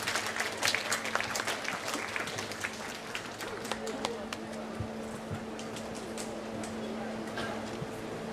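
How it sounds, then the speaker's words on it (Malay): Audience applause at a Mek Mulung traditional theatre performance in Kedah, steady dense clapping from a crowd that starts strong and tapers gradually over several seconds, heard at a moderate distance. "apa kata kalau kita berikan tepukan yang paling gemuruh kepada anda"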